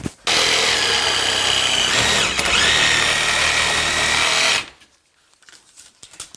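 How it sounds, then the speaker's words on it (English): Power tool cutting sheetrock gives a loud, steady high-pitched whine that runs for several seconds, dips briefly as it bites, then cuts off abruptly, leaving faint rattles. "I'm getting ready to cut some of this sheetrock off so we can get it out of the way"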